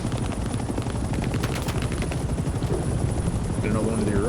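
A transport helicopter flies in the Vietnam-era video game Hell Let Loose, its loud continuous rotor chop filling the scene while bursts of gunfire crackle and players talk over it.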